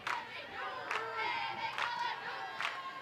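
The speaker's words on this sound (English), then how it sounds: "Today they've let the crowd get into it a little bit" A crowd at a college softball game cheers and claps in steady, distant waves, with rhythmic shouts and chants rising every second or so.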